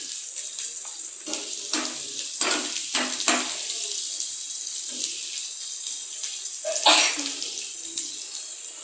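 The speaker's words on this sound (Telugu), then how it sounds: "ఇలా గోల్డ్ కలర్ వచ్చే వరకు ఆనియన్స్ వేపుకోవాలండి" Onions deep frying in hot oil for a shrimp fry, a bright hissing sizzle that runs steadily throughout, with a few bursts of crackling and spoon or pan clatter, close and loud.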